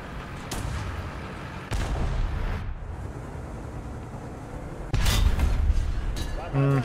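A T-55A tank cannon in War Thunder fires two heavy booms a few seconds apart, each followed by a rumbling decay over a steady engine drone, with voices in the background.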